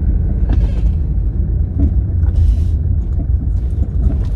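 A car driving along a road, with a steady low engine and tyre rumble filling the whole stretch at close range and no talk.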